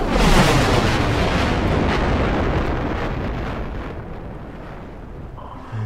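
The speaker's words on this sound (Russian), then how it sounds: "вот сейчас будет атомный взрыв" A massive nuclear explosion in the video game Generation Zero roars in a long, deep rumbling blast that slowly fades over several seconds.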